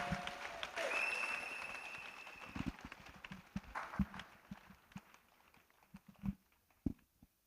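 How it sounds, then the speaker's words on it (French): A church congregation clapping as an offering to Jesus: dense applause at first that thins into scattered, uneven claps, heard from some distance in a large room. "Clap offering to Jesus."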